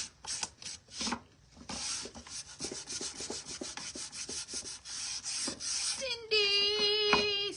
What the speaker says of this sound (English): we're just going to come in and use our little gator sander